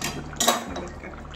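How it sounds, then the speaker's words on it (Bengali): Egg, potato and soya chunk curry tipped from a cooking pan into a bowl, a brief close scrape of metal and a soft wet pour lasting about a second. "নামিয়ে একটা বাটির মধ্যে ঢেলে"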